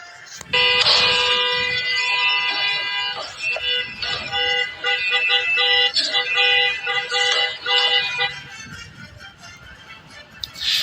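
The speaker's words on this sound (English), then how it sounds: "SUV parked in the street, honking the horn" An SUV parked in the street honks its horn in long, loud, sustained blasts with a couple of brief breaks, blaring for most of the stretch with faint background noise beneath.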